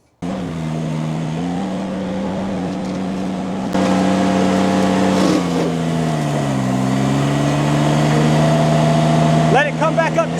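A Chinese mini skid steer runs with a forestry mulcher attached, giving a loud, steady engine drone whose pitch dips and recovers as the machine bogs and revs back up, with a brief rattle near the end.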